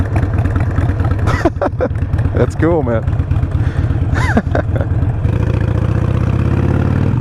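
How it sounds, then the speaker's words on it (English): A motorized bicycle's small engine runs steadily and loud close by, a buzzing drone beneath a man's brief remark, with a motorcycle's idle rumble mixed in. "he's got an engine on that bicycle"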